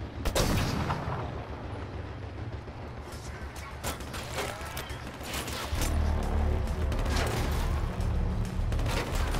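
A sniper rifle shot in Killzone Shadow Fall game combat, a sharp onset near the start followed by loud, dense layered explosions and battle noise that swell again toward the end.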